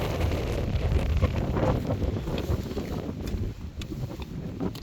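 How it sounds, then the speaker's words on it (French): Strong mountain wind roars and buffets the microphone continuously, a heavy low rumble with gusting swells and no voices. "Là, on a plein de vent."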